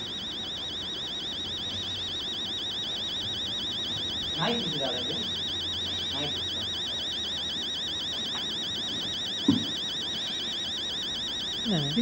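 An alarm rings on and off continuously in the horror video game Fear to Fathom, a fast warbling electronic tone that persists throughout, with a few brief thuds and a voice breaking in at moments.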